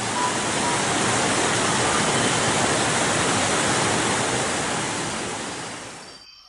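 A wildly flowing river and waterfall in the New Guinea rainforest roar as a loud, unbroken wash of rushing water that holds steady, then fades out at the end.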